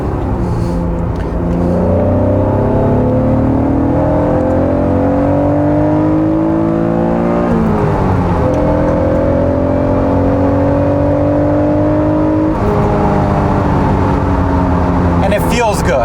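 A first-generation NA1 Acura NSX engine revs hard while driving, its note climbing steadily through the gears with two clear shift breaks, loud and close from inside the car.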